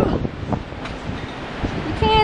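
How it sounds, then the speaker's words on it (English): Strong wind buffets the microphone outdoors, a rough, gusty roar that rises and falls throughout with no clear talking. "it's super windy"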